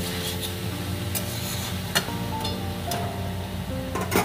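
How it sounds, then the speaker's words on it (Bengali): Cabbage and potatoes cooking together in a pan, stirred with a spatula: scraping strokes and soft clinks over a low, continuous sizzle, close and moderately loud. "বাঁধাকপিটা আবারও একবার নাড়াচাড়া করে দিই"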